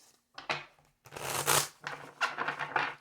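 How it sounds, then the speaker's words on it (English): Several bursts of tarot cards being riffled and shuffled, crisp and close, separated by short pauses. "One more shuffle."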